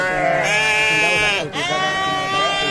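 Sheep from a herder's flock in rural Maharashtra bleat loudly and close by, several long wavering calls overlapping one another, with a brief pause midway.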